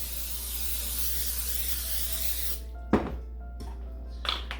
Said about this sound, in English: We're going to spray it with non-stick.